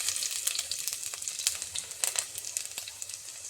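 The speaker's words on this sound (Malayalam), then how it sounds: "ചൂടായ എണ്ണയിലേക്ക് 1 സ്പൂൺ കടുക് ഇട്ട് കൊടുക്കാം. കടുക് പൊട്ടി കഴിയുമ്പോൾ അതിലേക്ക് ഇഞ്ചിയും വെളുത്തുള്ളിയും ഇട്ട് കൊടുക്കാം" Mustard seeds, ginger and garlic fry in hot oil for a fish curry, with a soft continuous sizzle broken by sharp, irregular crackles and pops close by, with no talking.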